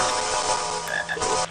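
Chocolate frog croaking in the video game Harry Potter and the Sorcerer's Stone, a loud, close, rough croak lasting under two seconds with no talking.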